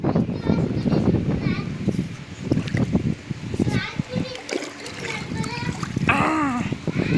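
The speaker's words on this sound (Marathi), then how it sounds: "याची डायरेक्ट स्विमिंग पूल मध्ये उडी मारती" Water splashes loudly as a child jumps into a pool, amid splattering and nearby children's voices and adult talk.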